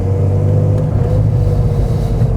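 A Nissan GQ Patrol engine runs loud through a custom 89mm Powerflow exhaust venting straight to atmosphere, a close steady deep rumble with a slight rise in revs and no talking.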